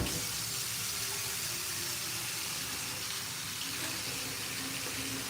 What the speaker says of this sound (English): Okay, that's filling up with water.